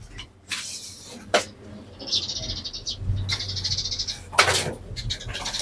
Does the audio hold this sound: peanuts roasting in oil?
no